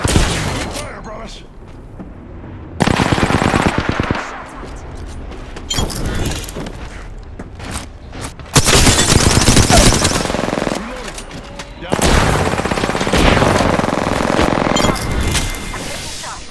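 Rapid bursts of gunfire in the Apex Legends shooter game come in loud, close volleys separated by brief lulls. Booming shots and automatic fire are mixed with in-game voice lines.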